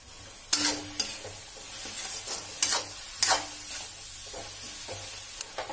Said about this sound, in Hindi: चावल को आराम आराम से चलाएंगे टूटना नहीं चाहिए चावल